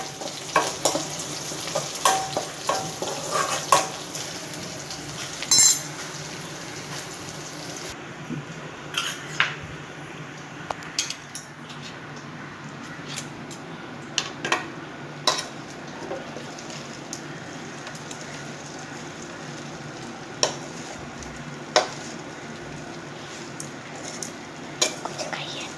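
Ragi vermicelli being stirred in a pan with sautéed onion and chili, giving a steady soft scraping and light sizzle with sharp spoon-on-pan clinks scattered throughout.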